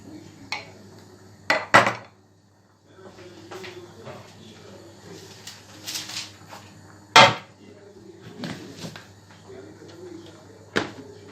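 A metal baking tray is knocked and handled on a counter as risen pide dough goes into it, with several sharp clanks and thuds scattered among softer rustling and a voice talking.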